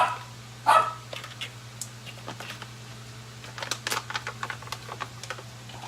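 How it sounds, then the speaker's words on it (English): A dog barks in short bursts near the start, partly over steady keyboard-like tapping and clicking in a home kitchen while vegan chocolate fudge is being made with agar; a constant low hum runs underneath throughout. "You don't need to be barking."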